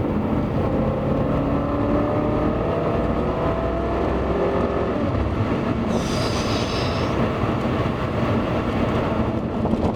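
Steady, loud cabin roar of a BMW F10 M5 accelerating, a continuous engine and road drone with rising tones, heard from inside the car.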